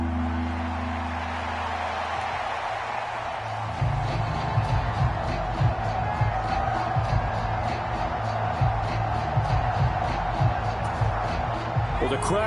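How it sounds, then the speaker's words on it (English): A stadium crowd roars at MetLife Stadium in a football video game, a broad sustained wash of noise that swells partway through while a commentator talks over it. "the crowd here at MetLife Stadium in full roar"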